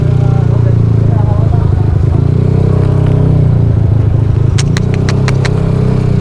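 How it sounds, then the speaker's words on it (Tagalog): A Yamaha NMAX scooter engine runs steadily close by, a low continuous drone with passing traffic noise and brief clattering toward the end. "Ito yung motor, NMAX."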